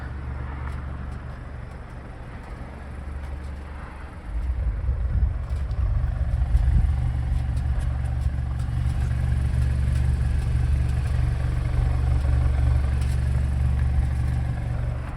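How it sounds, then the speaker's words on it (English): A Mazda6 Touring with dual exhaust runs in a low, steady rumble; the engine note grows noticeably louder a few seconds in and then holds an even idle, with no talking. "Dual exhaust doing okay."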